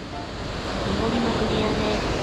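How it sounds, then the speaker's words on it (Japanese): Rough sea stirred up after a storm, waves breaking on the shore in Chiba, Japan, a continuous loud roar of surf mixed with gusty wind buffeting the microphone. "海、外海は荒れてます。"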